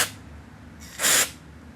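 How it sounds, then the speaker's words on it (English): Contact cleaner sprayed onto car window switch contacts: a short faint hiss at the start, then one close, louder burst of spray about a quarter second long. "I'm spraying the contacts."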